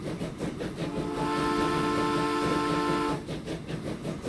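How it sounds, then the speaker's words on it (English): A steam-style train whistle sounds in a Transport Fever 2 railway scene as the first train departs, a steady held multi-tone blast of about two seconds over rolling train noise, fairly loud and without talk. "So this will be our first train coming out."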